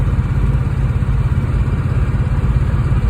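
Boyd Coddington shop van cruising at about 65 mph with the windows rolled down and the engine knocking slightly: a loud, steady low rumble with wind roar that runs unbroken throughout, with no talking.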